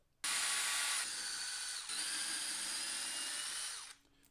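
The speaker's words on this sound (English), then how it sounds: "Then we're going to be removing 1, 2, 3, 4 screws." A power driver backs screws out of a Kraton 8S EXB RC car during a spur gear change. It gives a loud, close, steady whir lasting about four seconds with a short dip in the middle, and no voices.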